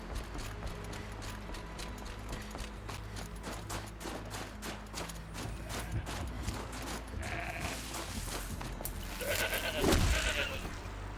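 Goat bleats from a goat in Horizon Zero Dawn, heard amid dense game ambience with hoof-like clip-clops and rustling, growing louder near the end with a loud burst.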